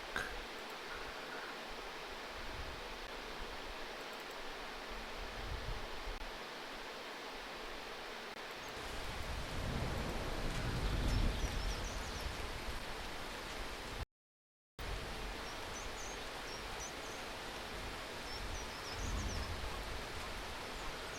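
Rain falls on a tin shack roof as a continuous broadband wash that swells louder in the middle, broken by a brief dropout, steady ambient patter with no voices.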